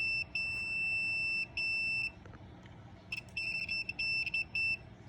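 A continuity tester touched to a trolling motor wire gives repeated high, piercing electronic beeps in short bursts, separated by gaps, over faint background hiss.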